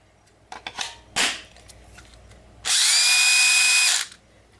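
A cordless drill whirs steadily at high speed for about a second and a half, loud and close, after a few clicks and handling knocks, running on a battery that no longer charges.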